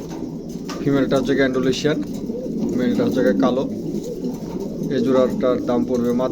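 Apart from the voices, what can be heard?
pigeons cooing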